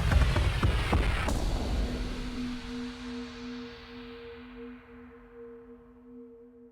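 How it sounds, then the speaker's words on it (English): An indie pop song's ending runs through a delay whose time slows down: a dense burst of music fades into a smeared, decaying wash with two sustained low tones ringing on, gradually thinning out, with no voices. "I will bounce that ending out, run it into some sort of delay, automate the delay time to slow down"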